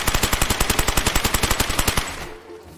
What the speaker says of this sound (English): who's shooting at me? Don't shoot at me!